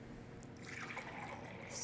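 Water pours into a bowl resting on a kitchen scale while bagel dough is being prepared, a steady close trickle and fill that runs continuously and grows slightly brighter toward the end.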